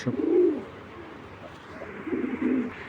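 Black racer pigeons coo softly at close range, two low throaty phrases separated by a short pause over a faint steady background hum.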